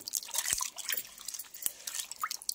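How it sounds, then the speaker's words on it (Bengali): A bitter gourd (karela) is rinsed under running water in a village kitchen, giving soft drips and splashes with a few sharper drops, fairly close and quiet. "করলাটা ভালো করে ধুয়ে নিচ্ছি।"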